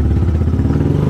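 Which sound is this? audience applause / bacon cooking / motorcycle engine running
motorcycle engine running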